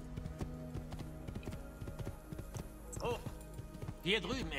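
Horse hooves galloping in Assassin's Creed 2, a steady rapid clip-clop rhythm mixed with game music and ambience, with a voice speaking briefly toward the end.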